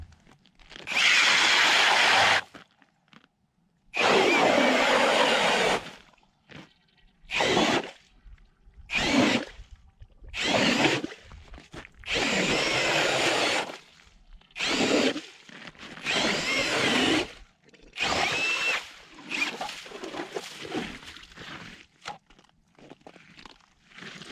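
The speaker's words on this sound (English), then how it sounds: "will this Ryobi work with the strikemaster lite-flite 8-inch auger" Cordless Ryobi drill driving a Strikemaster Lite-Flite 8-inch ice auger into ice on a lithium battery: loud, close bursts of whirring motor and grinding, about a dozen on-off runs of varying length separated by short silences.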